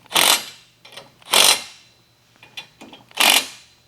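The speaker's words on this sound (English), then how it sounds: "we're going to just do a quick tighten on this side with the impact" Impact driver snugging a 9/16 nut during tine weeder assembly, three short loud bursts of hammering rattle separated by pauses, with light clinks and handling noises in between.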